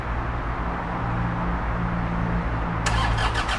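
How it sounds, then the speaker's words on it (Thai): A 2011 Toyota Hilux Vigo Champ single-cab pickup with a 2.5 diesel engine is heard idling steadily and close, with a sharp burst of clatter near the end as the engine catches or revs. "เดี๋ยวไปฟังเสียงเครื่องกันต่อเลยค่ะสตาร์ทเลย"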